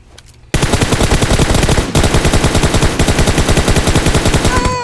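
Automatic gunfire in PUBG Mobile rattles in loud, rapid bursts that cut out abruptly and restart, the weapon jamming mid-stream before resuming its fast, even rhythm.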